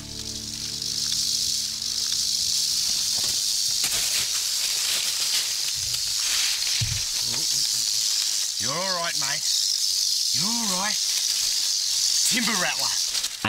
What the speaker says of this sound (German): Endlich höre ich eine Rassel.